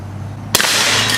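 A suppressed gunshot fires at 12-ounce cans: one sharp, muffled crack partway through, followed by a brief wash of broadband noise over a steady low hum.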